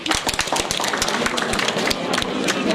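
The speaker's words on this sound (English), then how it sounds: "Can you give him a big clap?" An indoor audience at a development dialogue event breaks into loud, sustained applause. Dense, fast clapping fills the whole moment at a steady level.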